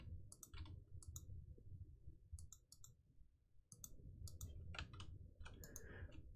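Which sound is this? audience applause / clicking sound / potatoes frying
clicking sound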